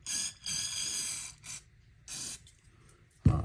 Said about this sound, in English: I like to take this spray stuff and just spray the inside out